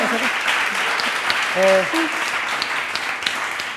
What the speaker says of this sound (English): a big applause for the panel, please